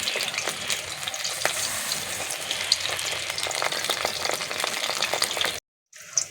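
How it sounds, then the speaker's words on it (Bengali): Food sizzles and crackles steadily in hot oil, close and continuous, before cutting to a brief silence near the end. "উল্টি পাল্টি ভালো করে লাল লাল করে ভেজে নেব"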